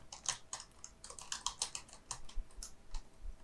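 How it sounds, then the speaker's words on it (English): Quick, uneven bursts of typing on a computer keyboard, close and fairly quiet, with clustered key clicks and short pauses and no voices. "here you can type anything"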